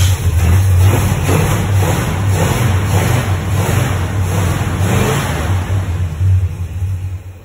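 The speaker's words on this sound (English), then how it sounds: "We'll try and see if this thing gets any throttle." A Ford XB Falcon ute engine with a carburettor fault revs hard and loud, several pulsing throttle blips rising and falling close by with no talking.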